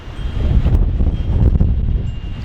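Strong wind buffets the microphone in a steady low roar, with gusty rumbling and rustling throughout and no voices.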